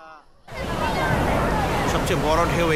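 Big, forceful ocean surf rolling in at Marina Beach, Chennai, loud and continuous after a brief quiet start, with wind buffeting the microphone and a voice speaking over the roar.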